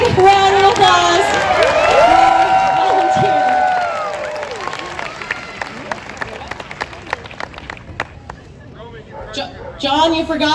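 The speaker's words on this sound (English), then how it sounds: "How about a big round of applause?" An audience cheers and whoops loudly, then the noise settles into scattered clapping and murmuring voices, with a brief swell of applause at the end.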